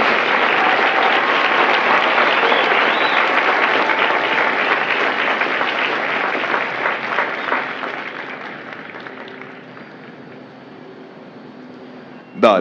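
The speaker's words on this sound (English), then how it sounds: "please join me in a round of applause for the company staff" Crowd applause at a Marine Corps recruit graduation ceremony at MCRD San Diego, a large audience clapping loudly and steadily before thinning and fading out near the end, with a brief bump at the close.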